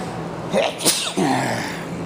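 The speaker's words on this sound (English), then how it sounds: "Excuse me, I gotta sneeze." One sharp, loud sneeze bursts out close by, preceded by a quick intake of breath and followed by a short vocal sound.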